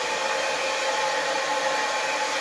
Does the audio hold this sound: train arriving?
no